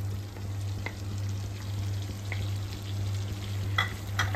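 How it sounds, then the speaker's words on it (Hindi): Chopped onion frying in hot butter and oil on full heat, a steady close sizzle with occasional soft stirring ticks over a constant low hum. "प्याज को हम थोड़ा सा ही भूनेंगे, ज्यादा नहीं भूनेंगे।"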